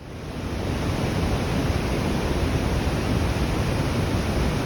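Strong river current near Athirappilly waterfall in Kerala, a dense, steady roar of rushing water that holds loud and unbroken throughout with no voices.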